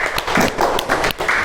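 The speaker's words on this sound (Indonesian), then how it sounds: "Beri tepuk tangan untuk Mbak Kartika." Clapping in a classroom, a handful of people applauding with distinct, uneven claps in short bursts, fairly close and loud.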